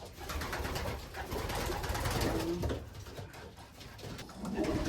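Racing pigeons coo close by in their loft, low rounded calls rising over a steady bed of rustling and flock chatter throughout.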